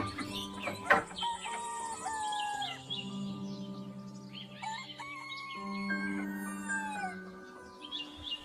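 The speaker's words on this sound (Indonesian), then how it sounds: "suara kokok ayam bersahut-sahutan dari pelosok desa" Several roosters crow one after another, some near and some farther off, mixed with chirping birds in a quiet rural morning.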